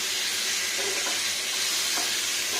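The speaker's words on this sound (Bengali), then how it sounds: "লবণ দিয়ে একটু ভালো করে ওলট পালট করে ভাজা ভাজা করতে হবে" Salted food being stir-fried and tossed in a pan for a Bengali bori sukto lunch, a steady close hiss of sizzling with faint scrapes of stirring, no talk.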